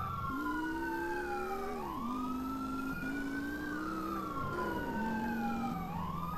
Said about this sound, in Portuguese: Vai a sirene pra ver se os caras saem da frente